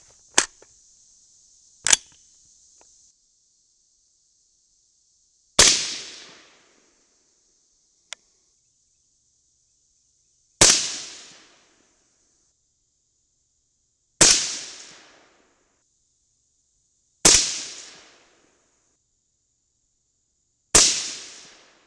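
Rifle shots from a .223 loaded with Bob's bulk bullets over 21.5 grains of H322, seven sharp cracks spaced a few seconds apart, each followed by a short decaying echo, with a faint steady tone between them.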